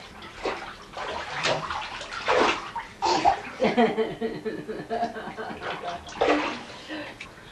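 Water sloshing and splashing in a bathtub while a baby is bathed, with intermittent splashes, chuckles and soft talk throughout.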